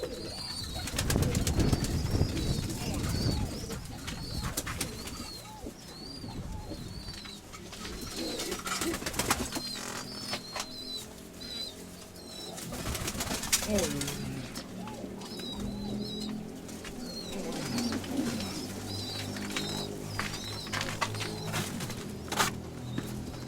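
Pigeons cooing in a loft, repeated soft rolling coos recurring throughout at moderate distance, along with scattered flutters and rustling.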